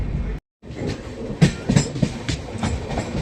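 A passenger train runs on rails on a journey in Kerala, heard from inside the carriage as a loud, close rumble with a rhythmic clickety-clack of wheels over rail joints and one short dropout.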